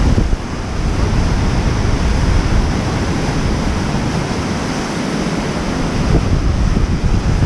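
Huka Falls in New Zealand's North Island roars as a loud, continuous rush of churning water heard from a nearby viewpoint, with broad, unbroken noise and wind buffeting the microphone throughout.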